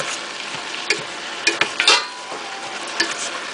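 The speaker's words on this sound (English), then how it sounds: "I'm just going to give it a toss so I can move everything around" Collard greens are tossed in a pot, giving a soft sizzling hiss with a few sharp scraping clinks of a utensil against the metal, close by and fairly loud over a short stretch.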